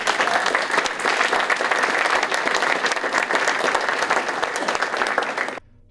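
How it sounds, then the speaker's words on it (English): Sustained applause from an audience at a MATC summit program, thanks for the summit organizers, loud and dense with steady clapping for over five seconds before stopping abruptly. "I'd like to give a nice round of applause to those people who helped to organize this summit"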